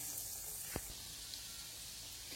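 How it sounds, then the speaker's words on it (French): Breaded kefta and ricotta rolls frying in a pan of oil, a soft, steady hissing sizzle with one brief knock partway through. "Et je fais frire de tous les côtés"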